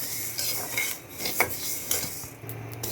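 Rice dry-fries in a pan as a utensil stirs and scrapes it, with soft rustling bursts and sharp metallic clinks against the pan.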